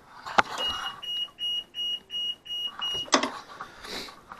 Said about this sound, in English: So that's what the alarm will sound like.